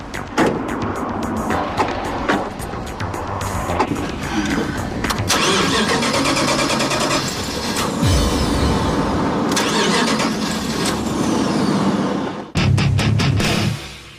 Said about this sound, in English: Cars are passing us.